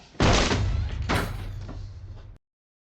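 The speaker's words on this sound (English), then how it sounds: "That was a cool transition of breaking down his apartment door." An apartment door is broken down in a TV drama scene: two heavy impacts, a loud slam followed by a second crashing blow, then a rattling tail that cuts off abruptly.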